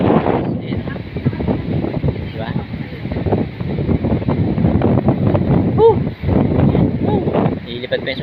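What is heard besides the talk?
wind blowing outdoors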